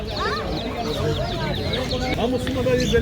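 Many chickens clucking and squawking at once at a busy poultry and bird market in Adana, a dense flock sound with other birds mixed in and a murmur of people in the background.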